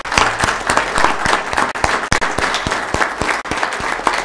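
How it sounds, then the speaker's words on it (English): The audience at a county commission meeting gives a sustained round of applause, with dense, fairly loud clapping filling the room and a few sharper claps standing out. "So, will all of you join me in a round of applause for Rich and Jane Brewer, please?"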